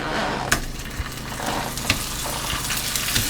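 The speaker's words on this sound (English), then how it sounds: "I'll let them fry" Liverwurst slices fry in hot butter in a pan, a steady close sizzle running throughout with a few sharp spatters and pops scattered across it.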